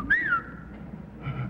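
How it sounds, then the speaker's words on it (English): A falconer's whistle call: a single short sliding whistle that rises and then falls, clear and close, followed by quiet room tone. "There's a whistle that we use."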